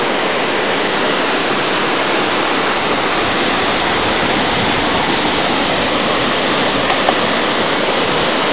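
A waterfall roars steadily and close by, a dense, unbroken wash of rushing water that stays even throughout with no other sounds standing out.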